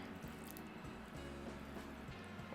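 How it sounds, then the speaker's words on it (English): Reserved pasta water poured into a creamy spicy vodka sauce in a pan, giving a soft, continuous wet sloshing and squishing with faint liquid drips, quiet and close with no talking. "we're also gonna add that reserved pasta water"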